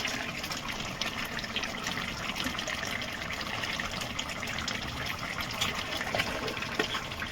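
Chicken curry with potatoes bubbling in a pot, a continuous busy wet simmering and gurgling noise, close and steady throughout with no talk.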